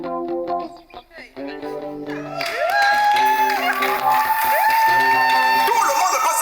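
A studio audience at a French television show breaks into loud, sustained applause with cheers and whoops after a few seconds of talk, the clapping and crowd noise filling the rest of the clip.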